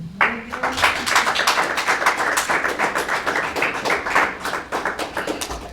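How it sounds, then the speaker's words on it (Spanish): A church congregation claps together during a sermon, a dense, rapid patter of hands that holds steady for several seconds. "Denle un aplauso al Señor."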